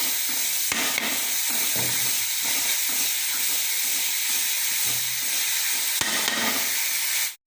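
Ginger garlic paste sizzles and fries steadily in a hot pan while onions sauté for a Chettinad chicken masala, with a continuous close hiss and occasional stirring scrapes throughout.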